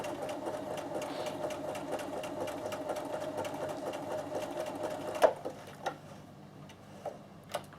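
Bernina sewing machine running a zigzag stitch over two straight rows of stitching, a steady, rapid mechanical ticking hum that stops partway, followed by a few isolated clicks and taps.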